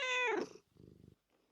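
A pet cat gives one loud, drawn-out meow up close, followed by a softer, low rumbling purr-like murmur and a faint trailing sound, with no one speaking.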